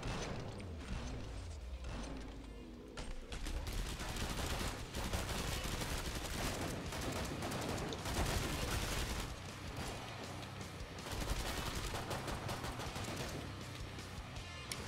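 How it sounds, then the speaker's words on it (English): Rapid pistol gunfire in the co-op zombie shooter Killing Floor 2, dense volleys of shots crackling over loud game mechanisms and machine-gun bursts, continuous and close throughout with no talking. "I love hearing Eric's pistols."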